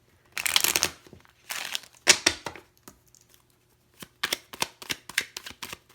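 Tarot cards being shuffled by hand: several short bursts of crisp riffling and card slaps, fairly close, with brief pauses between shuffles and no talking.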